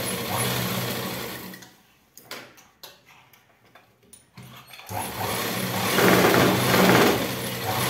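A sewing machine stitching a blouse, running in loud, steady mechanical bursts at the start and end, with a quieter middle stretch of scattered ticks and clicks.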